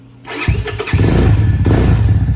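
A Venom X22R motorcycle engine cranks and catches on its first start, then settles into a loud, steady, close idle with a rough, chugging rumble.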